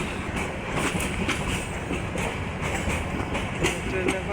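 A train passing on a railway line near Kamalapur station in Bangladesh, a continuous rumble with rhythmic clatter of wagons over the rails, with faint voices in the background.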